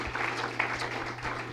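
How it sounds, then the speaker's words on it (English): A competition-final audience gives a brief burst of dense applause for the sponsors, a continuous wash of many hands clapping over a low steady hum. "So let's give our sponsors a round of applause as well."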